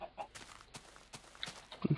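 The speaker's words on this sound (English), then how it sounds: "Chickens are really, really hard to catch." Chickens in a modded block-building video game give a few short, faint clucks near the end, over low game ambience and scattered soft footstep-like ticks.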